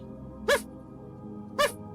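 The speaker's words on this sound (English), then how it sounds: "They're barking now." Two short, loud barks from a dog, spaced about a second apart against a quiet indoor background at night.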